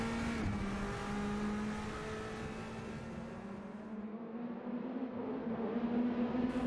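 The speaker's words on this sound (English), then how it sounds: "Internally, the Bentley sounds pretty convincing when compared to modern onboard videos of the car." A Bentley Speed 8 endurance race car heard onboard in an Assetto Corsa mod, its engine a steady, dense drone that stays near constant, then swells slightly toward the end, alone without talk.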